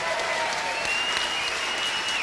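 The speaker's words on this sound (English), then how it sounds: "What about a round of applause for Elton John for all he's done?" Audience applause for Elton John at the 1987 ARIA Awards ceremony, a dense, steady wash of clapping from a large crowd that holds loud and even throughout.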